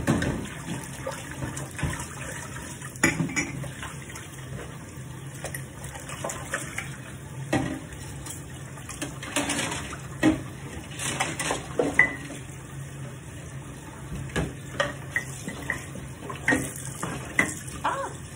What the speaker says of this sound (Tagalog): hot water yung ginagamit ko pang hugas ng pinggan.